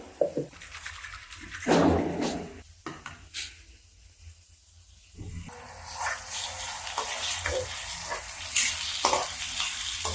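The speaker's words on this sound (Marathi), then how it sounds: "मसाला चांगला हलवून घेऊ" Masala is stirred with browned onion in a hot pan while making egg bhurji. A spoon scrapes and pushes through the sizzling mixture in uneven bursts, with a brief quieter lull partway before the frying crackle picks up again.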